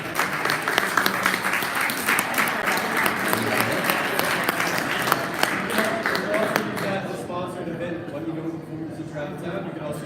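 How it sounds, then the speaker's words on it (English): An audience at a DAOStack hackathon claps in a lively burst of applause that fades after several seconds, and voices can be heard talking underneath. "Let's give a round of applause."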